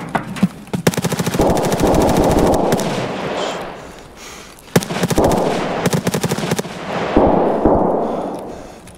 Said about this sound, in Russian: Один на втором на нас стреляет.